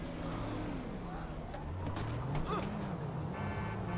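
Car engine in the Metal Gear video game, a low droning motor that rises and shifts in pitch as it drives, mixed with game sounds and faint talk.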